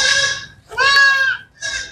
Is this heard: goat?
yes